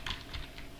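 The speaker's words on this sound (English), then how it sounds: "I can just type run, so I'll just type Ollama" Quick keystrokes on a computer keyboard, a short burst of soft close clicks.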